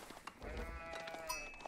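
Sheep in the Age of Empires IV strategy game let out a faint bleat, a wavering nasal call heard quietly over low background game sound.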